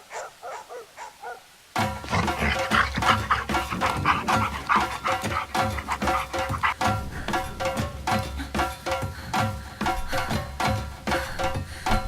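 Dogs in pursuit, panting rapidly and loudly in a close, rhythmic run of quick breaths that starts abruptly after a moment of near silence and keeps going to the end.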